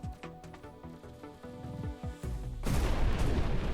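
Weapons fire in a space real-time strategy battle with a huge pirate battleship, a rapid string of shots over a tonal background, then a loud sustained roar of heavy fire and explosions.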